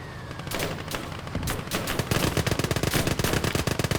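Rapid machine-gun fire rattles in the World War II game Gates of Hell, building from scattered shots into a dense, steady burst of loud, close reports.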